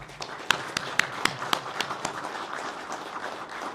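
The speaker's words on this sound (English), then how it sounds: "Give them a big round of applause, please." At a graduation ceremony, scattered audience applause comes through as distinct, sharp individual claps over a softer bed of clapping, moderately loud and gradually thinning out.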